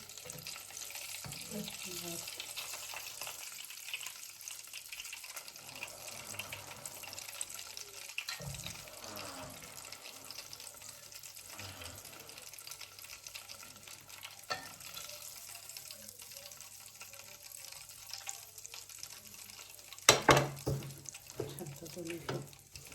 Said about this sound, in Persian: داخل روغن شناور میندازم که نم سرخ بشه